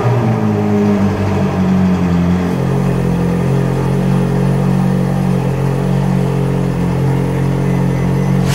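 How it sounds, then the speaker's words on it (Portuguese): A Ferrari engine cold-starts, catching and roaring into a loud, sustained high idle, droning steadily and close by after a brief rumble at the start. "Ok, vamos agora ouvir o som do carro. O cold start da vida."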